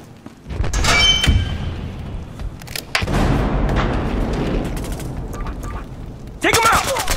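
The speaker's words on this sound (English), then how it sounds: "Throwing a grenade!" Gunfire and a thrown grenade's boom in Battlefield Hardline, with bursts of shots and heavy thumps spread across a few seconds, loud and close, mixed with shouted game voices.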